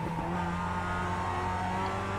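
A Mazda MX-5 Cup race car in iRacing at Okayama International Circuit pulls hard under throttle, a steady buzzing engine note with a rising tone held throughout, no voices over it.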